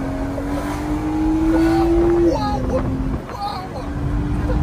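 A BMW 335 engine hums steadily on a track, its pitch rising as it accelerates, then dropping briefly under braking for a chicane before climbing again, with a voice talking over it.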